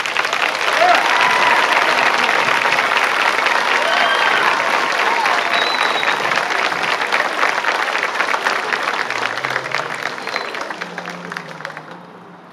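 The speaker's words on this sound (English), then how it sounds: "Another round of applause for Destiny Parker." A crowd at a high school senior convocation ceremony bursts into sustained applause, a thick wash of clapping with faint cheering that gradually fades toward the end.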